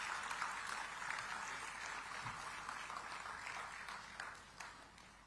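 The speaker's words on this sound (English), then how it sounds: "Let's greet him with an energetic round of applause." An audience at a digital technology event gives a sustained round of applause as an MP from Visakhapatnam arrives, a fairly faint, even wash of many hands clapping throughout.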